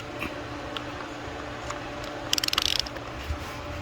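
A ratchet with a swivel-head extension breaks loose spark plugs on a 2008 Hummer H3, giving a brief run of quick, close clicks over a low background hum.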